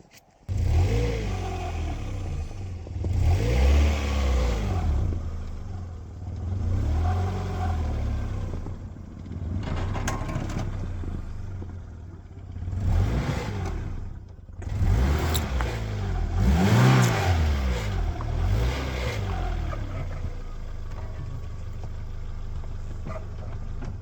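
A Honda car's engine revs in repeated surges as it tries to drive up onto snow during snow clearing, loud and close, with brief dips between the pushes.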